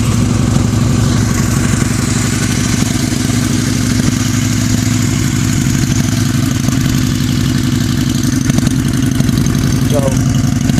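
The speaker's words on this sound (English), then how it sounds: "So let's go ahead and start her up and listen to how she sounds." A 2003 Harley-Davidson V-Rod VRSC motorcycle engine idles steadily and close by, with a dense, even low throb that carries through the whole stretch and a faint clatter over it.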